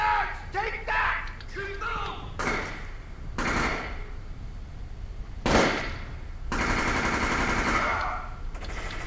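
Gunfire in Splinter Cell Chaos Theory comes in loud, close bursts of rapid shots with sharp single cracks between them, mixed with other game noise and shouting voices.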